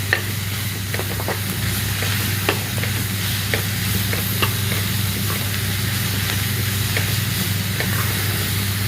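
Masala cooks in a pan on a low flame before soya chunks go in for a curry, with a steady close sizzle and hiss and a few light stirring scrapes and taps.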